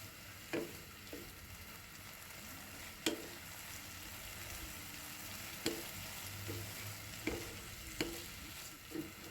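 Capsicum, green chili and frozen shredded cabbage are stir-fried in a pan with a soft, low sizzle, broken by several sharp spatula clacks and scrapes at irregular intervals; no one speaks.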